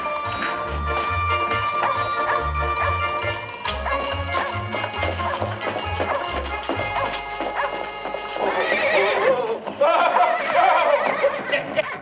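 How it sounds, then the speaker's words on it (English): A horse whinnies loudly near the end after thumping, clattering commotion and scattered noises earlier. "Your horse ran away again, Mrs. McGee."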